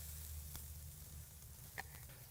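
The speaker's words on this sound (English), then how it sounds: "Listen to that sizzle." A faint, steady sizzle of steaks on a hot grill, a soft continuous crackle with a low hum underneath.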